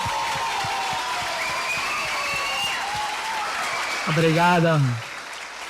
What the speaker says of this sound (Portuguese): uma salva de palmas para estes.